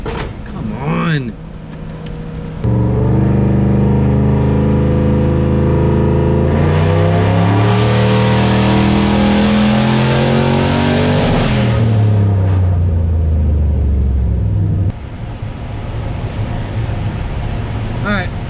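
A turbocharged Foxbody Mustang fitted with an On3 turbo kit and Holley Terminator X fires up nearby, its engine climbing through loud sustained revs with rising and falling pitch before settling back to a rough idle, a voice briefly heard at the start.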